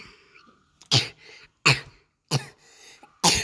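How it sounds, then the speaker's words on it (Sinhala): Four separate harsh coughs, evenly spaced, close to the microphone with quiet breathing between them. "අද කැස්ස පොඩක් ගණන් ගන්න එපා"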